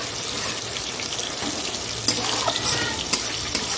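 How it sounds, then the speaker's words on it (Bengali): Bhetki fish bones frying in a pan, a steady close sizzle with a few sharp crackling pops and no voices. "এদিকে ভেটকি মাছের কাটা ভাজা হচ্ছে"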